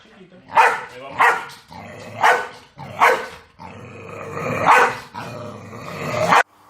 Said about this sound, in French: le chien, il a commencé à le grogner, à l'aboyer et l'attaquer